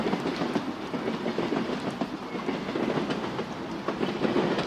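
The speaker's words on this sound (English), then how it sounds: "let the steady sound of the rails carry you away from the noise of the day" A train rolling steadily on rails, a continuous rumbling clickety-clack with a soft rhythmic beat, heard as if from inside a carriage with no voices.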